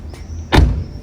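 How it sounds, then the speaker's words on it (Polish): A BMW X1 E84 LCI xLine 2.0d unlocks through keyless entry when the door handle is pressed, giving a single short, loud mechanical clunk of the lock actuator against quiet background. "po naciśnięciu klamki auto się otworzy"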